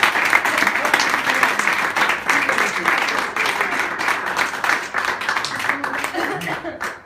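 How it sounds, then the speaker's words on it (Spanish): A crowd at an Asturian language day event in Madrid applauds with dense, continuous clapping. The clapping stays loud and steady for several seconds, then thins slightly near the end. "Voy a darte un aplauso."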